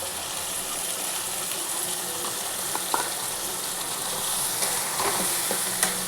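Coconut, nigella seed and chili paste is stirred in a hot pan for a bottle gourd peel dish, with a steady soft sizzle under scattered scraping and tapping strokes of the spoon.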